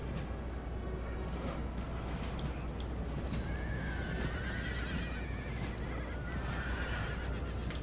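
Horses of a horse artillery battery neighing and whinnying repeatedly amid the steady clip-clop of hooves and a constant low rumble of battle in Empire: Total War, with no voices over it.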